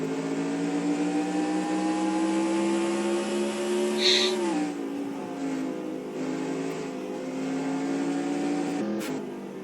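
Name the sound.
race car engine, onboard helmet cam lap at CTMP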